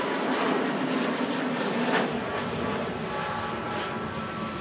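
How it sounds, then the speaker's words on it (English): An Airbus A321neo airliner climbing out of Manchester Airport, its engine roar broad and steady at a moderate distance, sustained without any talking. "A321neo just climbing out of Manchester there"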